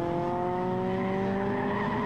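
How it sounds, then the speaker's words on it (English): A Ginetta race car spinning at Snetterton during a Ginetta Challenge race, its tires squealing in a continuous loud, tonal screech over engine noise, heard up close with no talk. "but Clive Richards has a spin, and now he's got to wait for a gap in the traffic, turn the car around"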